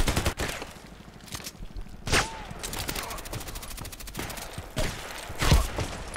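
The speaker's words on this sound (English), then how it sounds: "He's shooting my feet and I'm already dead." Gunfire in the video game Contract Wars: rapid automatic bursts and sharp single shots fired in clusters over several seconds, with scraping and mechanical clatter between them.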